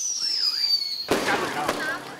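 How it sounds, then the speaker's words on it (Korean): After a high whine fades, firecrackers burst out in a loud crackling barrage in the middle of a village by the Yalu River, with a couple of sharp bangs standing out. "마을 한가운데서 느닷없이 폭죽이 울려 퍼집니다."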